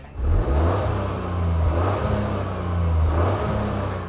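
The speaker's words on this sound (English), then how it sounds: "Thanks to emissions regulations, this car's exhaust doesn't sound particularly good." A Toyota GR Yaris accelerates, its exhaust giving a steady, fairly muted drone whose pitch climbs and drops back through several pulls, with no voices over it.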